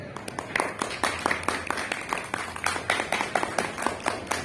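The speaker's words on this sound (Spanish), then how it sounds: "Un aplauso para él, por favor" An audience at a horror short-story book launch applauds for the author, with brisk, irregular clapping from a modest crowd, fairly close and steady throughout.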